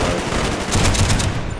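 Video game M60 machine gun letting off a rapid, loud burst of automatic fire that rattles on for about a second and then cuts off abruptly.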